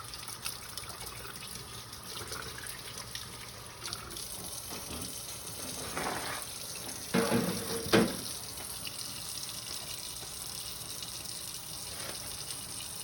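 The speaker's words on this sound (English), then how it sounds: "Turn the water off." Water running from a kitchen tap into a sink, a steady broadband rush that continues throughout, with a few clunks and brief splashy bursts partway through.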